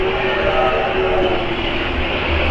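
A roller coaster train on the Fire In The Hole indoor dark ride at Silver Dollar City in Branson rumbles in a loud, continuous roar with a steady whine for a couple of seconds.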